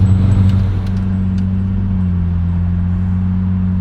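Lamborghini Murcielago LP640 converted to a gated manual, rear-wheel drive, rolling at low speed: a loud, steady, deep engine drone with strong low harmonics, holding a constant pitch with no revving and no talk.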